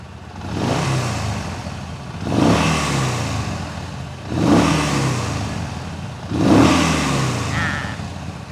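A 2018 Yamaha Bolt R motorcycle engine gives four revving bursts roughly two seconds apart, each rising then falling, close by with a low rumbling tone between revs.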